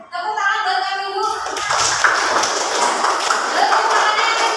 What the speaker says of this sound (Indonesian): Tepuk tangan buat kami dulu.